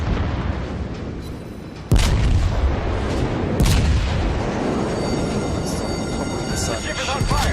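Warship secondary batteries firing during a naval battle in a video game, a heavy boom opening a dense, rumbling barrage with a second sharp blast midway and continuous loud low roar throughout.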